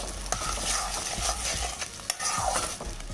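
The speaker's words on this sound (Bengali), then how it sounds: "চিংড়ি মাছটা একটু নুন দিয়ে দিলাম, দিয়ে একটু ভেজে নেব ভালো করে।" Salted shrimp frying in hot mustard oil, a continuous close sizzle with frequent spatula scrapes and stirring clicks, no voices.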